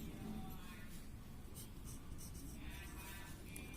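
A pen or pencil writes an answer on paper, giving faint, close scratching strokes in short bursts against a quiet room background.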